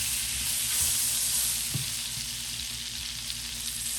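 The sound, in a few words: brown butter sizzling in a frying pan for salmon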